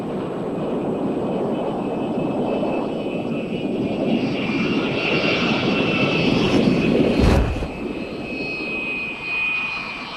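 A spy plane flying at over 100,000 feet at the edge of space gives a steady, broad engine roar that holds for the whole stretch, with a brief louder swell near the end before settling again.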